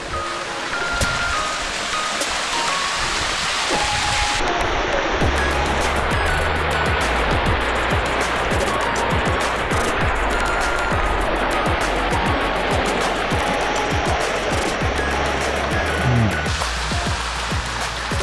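A waterfall in the Sydney area gives a steady, dense roar of rushing water that fills the whole clip. It stays loud and continuous, with no speech over it.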